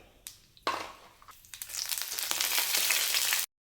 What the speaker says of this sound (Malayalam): എണ്ണ ചൂടായിട്ടുണ്ട് നമുക്ക് ഇച്ചിരി കടുക് ഇട്ട് കൊടുക്കാം